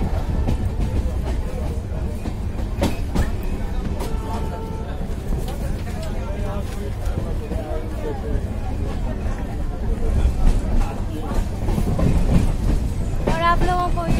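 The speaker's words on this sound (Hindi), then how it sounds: "ये देखिए फ्रेंड कि मैं यहाँ पर ट्रेन पर भी बैठ चुकी हूँ और ट्रेन स्टार्ट हो चुकी है" A train rolls along, heard from inside a carriage: a constant low rumble with rhythmic clickety-clack and occasional squeals over about fourteen seconds, with background chatter from passengers.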